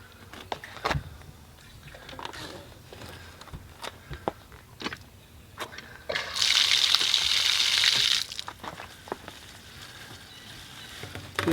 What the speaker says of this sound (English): We're going to go ahead and flush out our hose with some fresh water.